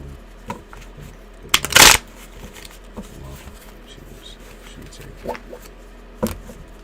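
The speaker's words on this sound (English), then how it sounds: "Let me do a little shuffle here." Tarot cards are shuffled by hand at close range, with a sharp riffling burst and a few lighter flicks and taps scattered around it over a quiet room background.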